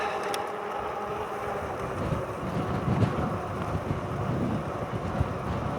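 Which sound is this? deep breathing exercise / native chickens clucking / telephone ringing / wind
wind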